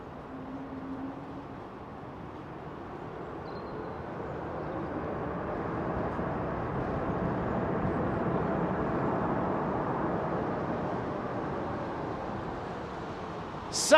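Swiss Airbus A220 with Pratt & Whitney engines deploying thrust reversers after landing at London Heathrow, a broad roar that swells gradually and holds steady, heard from a distance with no talking.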